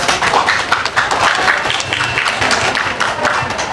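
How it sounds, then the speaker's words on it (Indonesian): An audience at a marketing strategy discussion claps for a woman who asked a question, a lively, continuous round of applause with many individual claps audible throughout. "Mungkin bisa beri tepuk tangan untuk ibunya."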